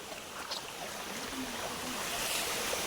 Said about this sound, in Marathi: मस्त पाणी पडतं त्या दगडांमधून इकडून पाणी असं खाली जातं